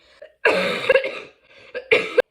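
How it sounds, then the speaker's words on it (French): A few harsh coughs close up, in two short bursts with a brief pause between, no speech. "J'arrête de rigoler parce que ça me fait tousser."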